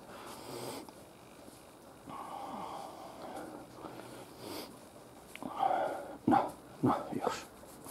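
A pet dog greeting its owner indoors, sniffing and snorting up close before a few short, loud barks and whimpers near the end.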